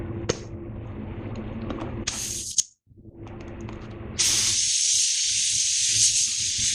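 A spray gun lays a light coat of paint, probably a PPG matte clear coat job, with a short hiss burst followed by a longer steady spray that runs loud and close to the end.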